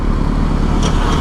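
Loud motorcycle engine on a street ride, a steady close rumble filling the whole brief moment with no voice over it.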